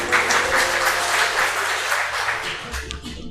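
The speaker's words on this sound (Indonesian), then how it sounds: "Tepuk tangan Frater Wibran." Applause rises at a seminarians' robing ceremony, with a crowd clapping briskly and loudly before the sound thins and tapers off near the end, with a low hum underneath.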